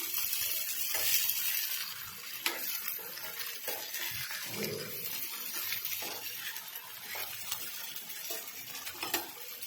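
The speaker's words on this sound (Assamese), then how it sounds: "কাটা চামুচখনে দিয়ে লৰাই দিছোঁ।" Potatoes with turmeric and salt are stirred with a fork in a small wok, a soft sizzle under intermittent scraping and clinking strokes, close and fairly quiet with no talk.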